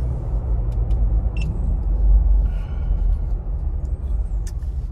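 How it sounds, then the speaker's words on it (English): A 2022 Ford Bronco cruises in normal mode, heard from inside as a steady low road rumble and engine drone with a few faint clicks and creaks over it. "So we're gonna go back into normal mode, back into what I am used to driving all the time."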